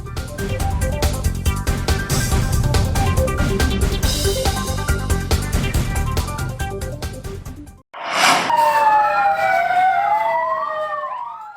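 A loud, dense wash of sound cuts off abruptly, then a fire engine siren wails in sweeping, rising and falling tones, close and strong, as firefighters in Samarinda, Indonesia rush to a fire.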